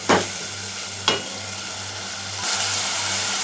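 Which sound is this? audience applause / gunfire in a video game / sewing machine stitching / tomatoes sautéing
tomatoes sautéing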